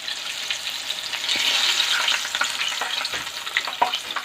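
Spicy crispy chicken pieces deep-frying in oil make a steady, bright, close sizzle with light popping and occasional stirring clicks, with no voices.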